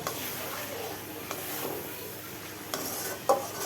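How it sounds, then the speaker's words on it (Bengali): Tengra fish cooking in a pan with spices in a home kitchen, a soft steady sizzle and hiss punctuated by a few scraping stirs of a utensil against the pan, fairly quiet and close. "এখন এখানে মাছ দিয়ে দিব, ট্যাংরা মাছ। এটাকে ভালোভাবে কষিয়ে নিব।"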